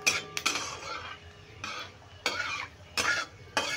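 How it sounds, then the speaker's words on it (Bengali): Panch phoron spices being stirred and fried in a metal pan for amla pickle: a spoon scrapes and clinks against the pan in several distinct, close strokes, with quieter stirring between them. "ফোড়নটা একটু নেড়ে ভেজে নেব।"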